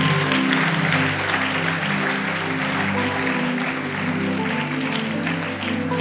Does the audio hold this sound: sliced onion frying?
no